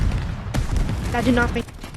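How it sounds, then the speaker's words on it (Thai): A grenade explodes in the VR shooter Forefront VR, giving a deep boom with rumbling gunfire-like bursts around it, loud and close, while a player talks over the action. "ปาระเบิดไปแล้ว เตรียมตัว เข้าชาร์จ"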